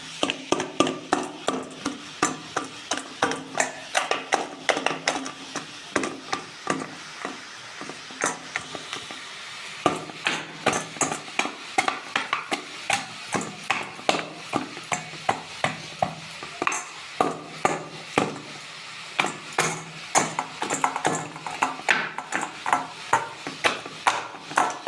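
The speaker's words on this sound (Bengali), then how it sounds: "আমি মাছের মাথাগুলো একটা হামানদিস্তা দিয়ে ভেঙে গুঁড়ো করে নেব" Rohu fish heads are pounded in a metal mortar and pestle, giving a long run of sharp, steady rhythmic thuds and clanks close by, with no talking.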